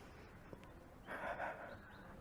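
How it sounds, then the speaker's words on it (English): A single soft, breathy exhale during a classical mat Pilates breathing exercise, close and quiet over a steady background hiss. "Last 2 breaths."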